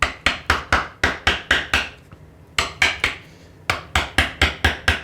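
A chisel being struck into wood to cut a blind dado, with rapid, evenly spaced sharp mallet-like knocks in three bursts separated by short pauses, close and crisp with no talking.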